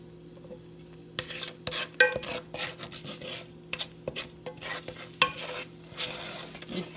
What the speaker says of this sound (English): I let the spices saute in the ghee for about 2 minutes